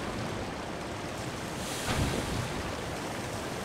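A device in Zelda Tears of the Kingdom sprays water in a steady rushing hiss, swelling briefly in the middle, heard alone without talk.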